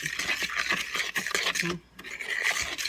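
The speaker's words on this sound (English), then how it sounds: "And we're just going to stir this up." A spoon stirring a wet homemade meatball mixture of ground hamburger in a bowl, giving a continuous close scraping and squelching churn with rhythmic strokes and a brief pause partway through.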